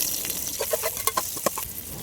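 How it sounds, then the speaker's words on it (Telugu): Green chillies and onions sizzle in hot oil in a pot for bagara rice, cooked outdoors at a farm picnic; a steady crackling fry runs throughout, with a few louder pops and stirring scrapes. "గిన్నె పెట్టుకొని అందులో ఆయిల్ వేసుకోవాలి పచ్చిమిర్చి ఆనియన్స్ వేసుకొని కలుపుకోవాలి"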